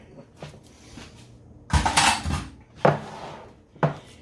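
An 8x8 baking pan is set down hard in a home kitchen while making meatloaf, giving a loud metallic clatter and thud in the middle, with lighter knocks and scrapes before and after.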